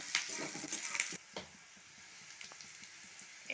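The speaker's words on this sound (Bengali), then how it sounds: "দিয়ে এখন আমি এগুলো একটু লাল লাল করে ভেজে নেব" Onion, garlic and chilli sizzle and crackle in a pan, a soft steady frying hiss with scattered pops, livelier at first and then settling quieter.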